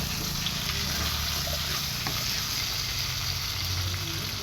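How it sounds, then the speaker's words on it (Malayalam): Onions and tomatoes frying for a fish curry give a steady, moderately faint sizzle with a soft low hum beneath and only a stray light knock, no voices heard. "തക്കാളി നല്ല റോസ്റ്റ് ആവട്ടെ."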